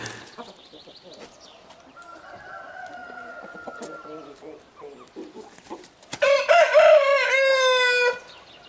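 A black rooster crows once, loud and close near the end, after a stretch of quieter clucking and low farmyard sound.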